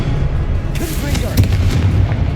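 Confringo blasting spell explosion in the Hogwarts Legacy video game, a loud burst of booming, crackling blasts over dense low rumble lasting a couple of seconds, with a voice in the mix.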